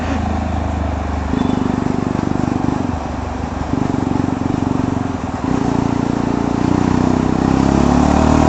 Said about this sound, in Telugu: ఈ బండి నడపడంలో ఫీల్ అయితే బాగుంది, కానీ సౌండ్ నాకు నచ్చలేదు